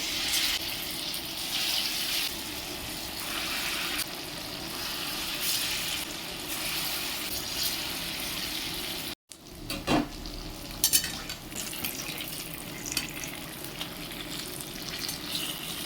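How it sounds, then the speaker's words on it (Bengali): Ground lentil fritters frying in hot oil in a wok, a steady close sizzle and bubbling, with a brief break partway through before the frying resumes along with a few clinks. "কড়াতে তেল দিয়ে দেবো তেল গরম হয়ে গেছে বড়াগুলো ভেজে নেব"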